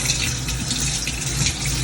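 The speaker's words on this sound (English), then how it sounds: "Don't put too much water in there, because it will spoil the flour." Water runs steadily from a tap while making dough for Jamaican fried dumplings, a continuous close splashing hiss with no pauses.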